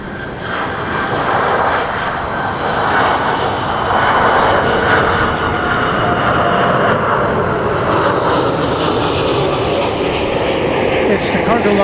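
Qantas Flight 8 jet taking off on runway 18 right at Dallas Fort Worth at night, a loud, close, sustained engine roar with a rising whine, continuous and strong for the whole stretch.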